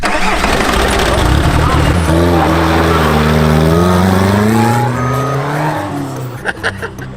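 A Volkswagen Passat engine revs up under acceleration, its loud, close drone climbing steadily in pitch for several seconds before easing off and fading into lighter knocks.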